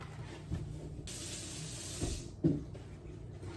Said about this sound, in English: we're going to fill this up to 1 cup, and that'll be our liquids, using warm tap water